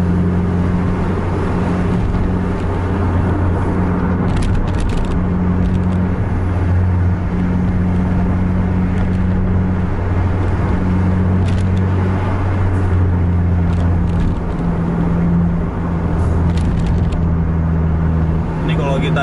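A Mercedes-Benz 1526 truck engine runs steadily with a deep drone, heard from inside or close by on the road, with a constant low hum and occasional clicks and rattles throughout.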